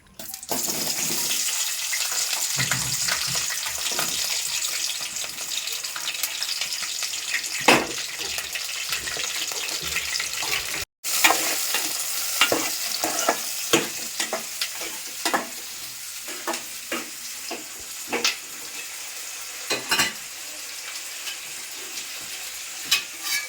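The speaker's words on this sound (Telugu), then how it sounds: "ఇప్పుడు ఉల్లిగడ్డలును మిరపకాయలు వేస్తాను" Onions and green chilies sizzle and fry in a pan for fish curry, a steady crackling hiss with scraping stirs and clinks of the spoon scattered throughout, close and fairly loud.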